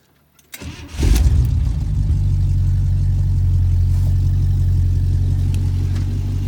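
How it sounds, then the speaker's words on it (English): A 1976 International Harvester Scout II's V8 engine cranks briefly and catches, roaring to life before settling into a loud, steady, deep rumble close by. "I'm going to go ahead and start it for you guys, let you hear it run"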